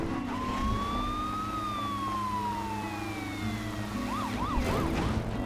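A video game ambulance siren wails in a long, slow rising and falling tone, then switches to a rapid yelp, over a constant low engine rumble.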